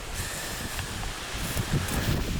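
Steady, broadband wind rushing and buffeting the microphone outdoors, with faint rustling underneath.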